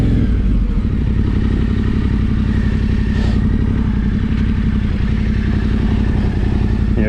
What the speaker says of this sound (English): Let me shift my bike round here.